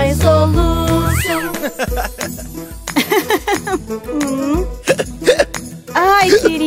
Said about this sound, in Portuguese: Lá vem o soluço de novo!